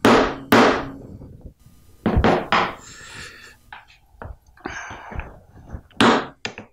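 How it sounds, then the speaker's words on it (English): A series of sharp knocks as a part of a shop-made screwdriver is hammered into place, uneven strikes mixed with handling noises and a soft breath. "And hammer it home."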